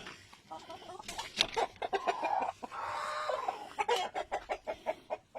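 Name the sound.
Rhode Island Red and Black Australorp chickens clucking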